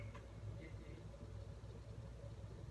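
Bus engine passing in a video game, a steady low rumble that stays loud and constant throughout without clear rise or fall.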